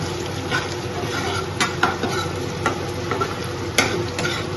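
Fish heads frying in a pan in a home kitchen, a steady close sizzle with occasional sharp clinks of utensils against the pan.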